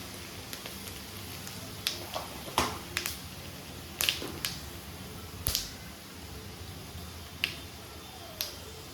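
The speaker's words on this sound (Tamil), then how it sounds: "இப்போது இந்த எண்ணெயிலே வந்துட்டு நம்ம வடகம் சேர்த்துக்கலாம்." Vadagam fries in hot oil for vatha kuzhambu, giving scattered sharp crackles and pops at irregular intervals over a faint low background sizzle, close by with no talk.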